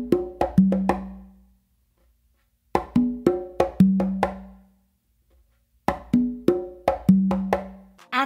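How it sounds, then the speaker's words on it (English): Conga afro beat played with a close slap: three quick groups of sharp slaps and ringing open tones, each phrase separated by short silences, close and clear with no talking. "if you wanted to do a close slap, it's gonna sound like this."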